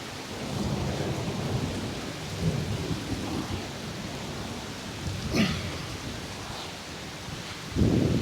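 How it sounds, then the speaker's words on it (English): Heavy rain pours in a steady wash outdoors during a strong thunderstorm, with deep rumbles of thunder rolling through and a louder crack near the end, no talk. "Wow, this storm is something else."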